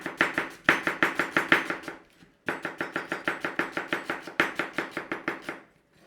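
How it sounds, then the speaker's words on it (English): A knife thinly slices cabbage on a cutting board in quick, even strokes, two long runs of crisp rhythmic chops separated by a short pause, close and clear with no talk. "thinly slice and get it in your pan"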